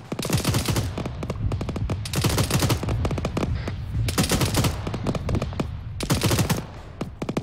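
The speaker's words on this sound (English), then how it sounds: "You guys should not be firing in the open, put a trench down." Gunfire rattles out in the open during an infantry field training exercise: rapid bursts and clustered volleys of sharp shots come in waves, some close and loud, with brief lulls between them and no talking.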